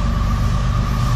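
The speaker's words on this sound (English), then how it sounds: "Yeah, this is the ethanol train." A CSX ethanol train of tank cars, led by ES44AC-H locomotive 795 with an ES44DC trailing, rolls past as a loud, steady low rumble and mechanical drone over a brief moment, with no voices.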